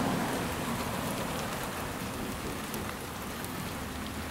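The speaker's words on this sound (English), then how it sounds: "I'm trying to block the rain from hitting the camera" Heavy rain pours steadily during a thunderstorm over Hampton Roads, a dense, continuous hiss of drops striking nearby surfaces with no voices.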